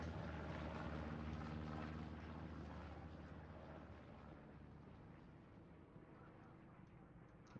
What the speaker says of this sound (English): Recon plane coming over for JWT.